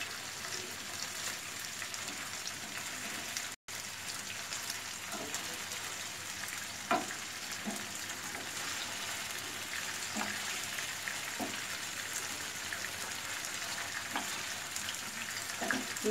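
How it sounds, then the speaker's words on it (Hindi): Paneer pieces frying in a pan for chilli paneer, a steady, even hiss of oil with occasional soft pops, fairly quiet and unbroken apart from a brief gap. "फ्राई हो रहे हैं, इसे ज़्यादा फ्राई नहीं करना है,"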